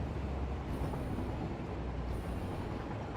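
A train in the video game Satisfactory runs along its track, a dense, steady rolling rumble that stays loud and unbroken throughout.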